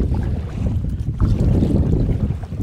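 A kayak is paddled against the wind across a marsh, with a constant rush of wind buffeting the microphone and soft water splashes from the paddle strokes throughout, loud and close.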